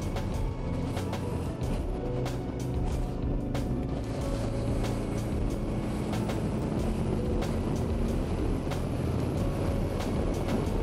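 A 2024 Harley-Davidson Freewheeler touring trike cruising on the road, its engine a constant loud rumble mixed with wind rush the whole way through, steady and unbroken with no speech.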